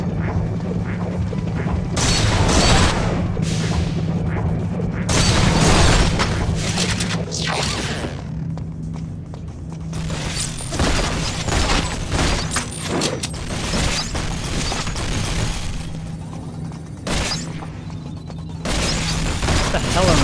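Gunfire and explosions in GoldenEye: Rogue Agent during the Dr. No finale, loud bursts of shooting and booming blasts in irregular clusters over a low steady mechanical hum, with quieter stretches between the volleys.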